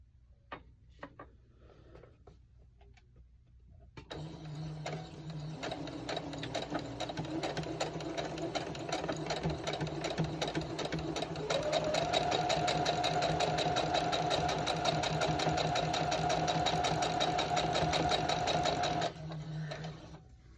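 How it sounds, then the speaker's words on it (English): A sewing machine stitches a row of pieces together, with the pace set by a foot pedal. Its rapid mechanical whir starts after a few quiet seconds, holds steady and close, rises slightly in pitch partway through, then stops. "So I'm just sewing a row together"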